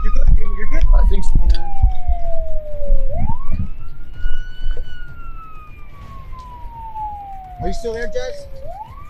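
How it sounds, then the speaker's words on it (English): A police car siren wails in long rising and falling sweeps, loud and close over rumbling engine noise. A voice speaks briefly over it. "Shut your siren off!"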